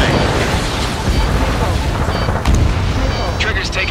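A missile launches and explodes during a combat flight in Ace Combat 7: Skies Unknown, heard as a dense, loud roaring rumble with booming blasts and radio chatter mixed in.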